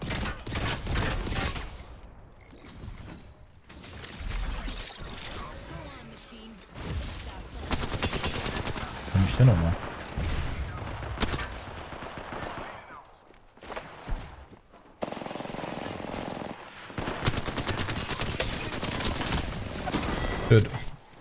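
Gunfire in the Apex Legends video game: repeated bursts of rapid automatic shots and single cracks, broken by quieter gaps, with commentators talking throughout.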